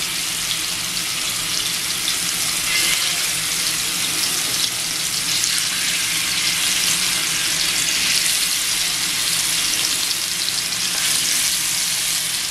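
Prawns sizzle steadily in hot oil on a flat iron tava, a loud, close, continuous frying hiss with faint stirring scrapes and no talk throughout.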